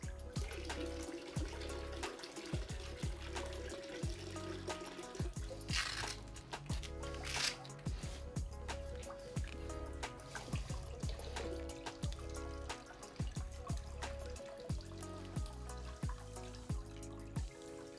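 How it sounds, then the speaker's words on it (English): Water trickles and splashes steadily out of a scuba BCD power inflator as it is drained, a continuous close wash with a couple of brief hissing spurts partway through. "we'll drain water through the power inflator"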